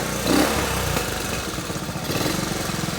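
A 1969 Honda CT90 motorcycle engine idles steadily nearby, its slightly dirty carburetor giving a rough, pulsing putter with small irregular fluctuations throughout.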